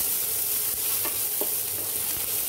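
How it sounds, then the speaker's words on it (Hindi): Chopped onion frying in a pan with garlic, ginger and chili for a mushroom roll gives a steady, close, even sizzle with a few soft stirring scrapes. No one speaks. "जब तक हमारा प्याज भुन रहा है तब तक हम इसमें मसाले डाल देते हैं।"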